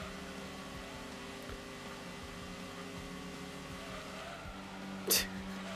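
A car engine in the Gran Turismo 2 video game is held at high revs, making a steady, droning tone with a brief sharp burst near the end. No one speaks.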